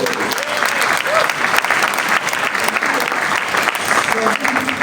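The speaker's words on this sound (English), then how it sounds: "please give them another round of applause" Applause from a large audience at a speech event, a dense continuous roar of many hands clapping that stays steady and loud throughout, with faint voices mixed in.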